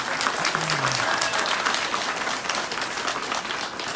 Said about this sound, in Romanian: Deci merită aplaudat acest om minunat